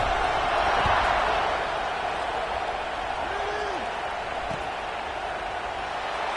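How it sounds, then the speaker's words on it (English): Large football stadium crowd at an Iowa vs Maryland college game, a dense continuous roar and murmur filling the background, fairly loud and steady, with a few thumps and brief whistle-like tones rising through it. "this crowd is buzzing after that last score"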